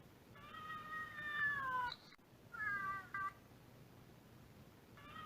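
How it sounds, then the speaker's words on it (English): A cat gives two drawn-out, tonal meows, close and clear against a quiet background, with a brief pause between them and a third meow starting at the end. "Cat mew."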